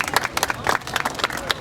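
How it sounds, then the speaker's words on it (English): A short burst of scattered applause for a chef at an outdoor free summer meals event in New York City, irregular claps close by, moderately loud and briefly overlapping with speech. "he does deserve a round of applause"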